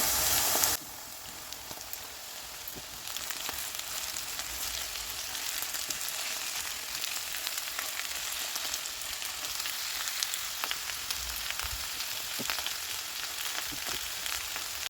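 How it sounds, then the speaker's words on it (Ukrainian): Steady crackling sizzle of zucchini and mushrooms frying in a hot pan, with a few soft scrapes of stirring. "До грибів додаю нарізаний кабачок і знову смажу до випаровування вологи з кабачка."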